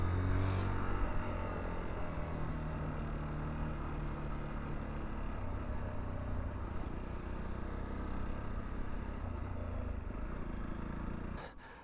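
A Junak RX ONE 125 adventure motorcycle's engine runs steadily and close, its tone holding for about eleven seconds before cutting off near the end.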